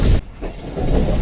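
Tezgam passenger train rolling into Lala Musa railway station in Pakistan, a steady loud rumble of wheels and carriages with a sharp drop in hiss early on, continuous and close.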